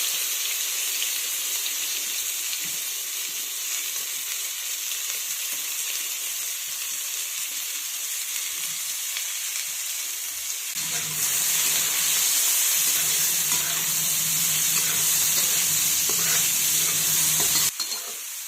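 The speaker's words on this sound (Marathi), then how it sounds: "आता तेलामध्ये आपण कांदा टाकून घेऊयात अगोदर" Chopped onion fries in hot oil with cumin in a pan, a continuous bright sizzle that grows louder partway through, with occasional stirring.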